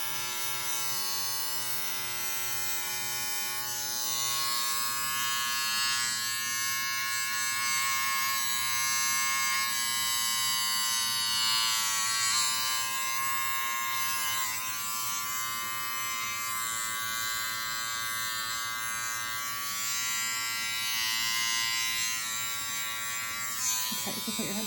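Electric hair clippers buzz continuously while shaving off long leftover hair during a boy's home haircut, a close steady drone with slight changes in load as the blades move through the hair.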